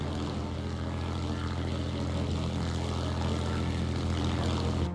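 A propeller airplane engine in War Thunder drones steadily and loudly throughout, a continuous close buzzing roar with no break.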